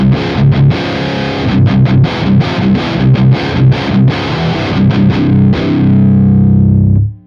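A heavily distorted electric guitar plays through a Revv Generator amp in blue aggression mode, loud and alone: a chugging, stop-start riff of palm-muted chords, then a final chord left ringing before it cuts off.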